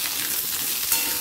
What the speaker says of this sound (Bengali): আলুটাকেও পটলের সাথে ভেজে নেব